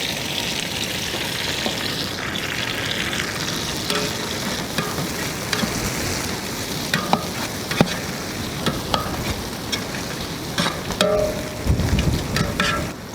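Onions, green chillies, mint and coriander fry in an outdoor village kadai for biryani, with a loud, dense, continuous sizzle and occasional stirring scrapes and knocks close by.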